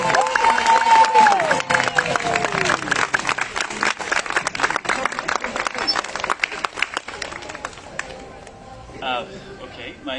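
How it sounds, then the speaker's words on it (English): A protest crowd in an art gallery applauds and cheers, with clapping and whoops running under a speaking voice and chatter, thinning out in the final seconds. "Let's have a big round of applause."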